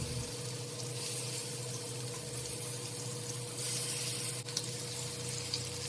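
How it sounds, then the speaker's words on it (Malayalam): Chicken pieces frying in oil with curry leaves in a pan, giving a steady, moderately quiet sizzle that runs unbroken throughout. "ഇതാ ചിക്കൻ ഒന്ന് ഫ്രൈ ആക്കാൻ ഇട്ടിട്ട്"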